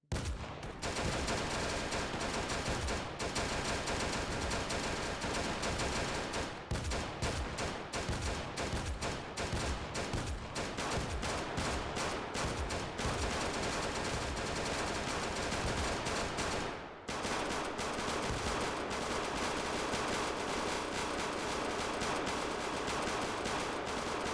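Sustained rapid gunfire from the video game Project Zomboid, loud and dense bursts of automatic shots running almost continuously with a brief pause partway through.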